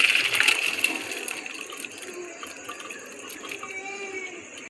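Water splashes and trickles as boiled peas and potatoes are drained, a burst of pouring at first that fades into lighter dribbles and drips.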